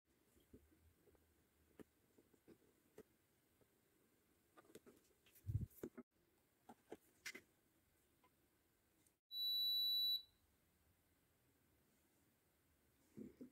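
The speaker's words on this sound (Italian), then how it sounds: "Ed ecco il cicalino," Electronic buzzer from a Gemex resin jewellery-making kit signals that the resin in the mold has cured, one steady tone of about a second, loud against a quiet room with light handling noises.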